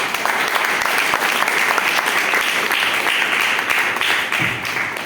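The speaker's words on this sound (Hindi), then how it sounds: "इस बात पे तालियां होनी चाहिए" A church congregation bursts into sustained applause during a worship sermon, a loud, even wash of many clapping hands lasting several seconds, fading slightly at the end.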